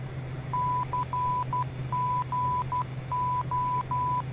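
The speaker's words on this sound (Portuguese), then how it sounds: "No caso, você vai ouvir o código Morse de Congonhas." A Morse code station identifier from the Congonhas VOR, received over a NAV 1 aviation radio, plays as a steady series of clear mid-pitched tone dashes and dots in a rhythmic pattern above a constant low electrical hum.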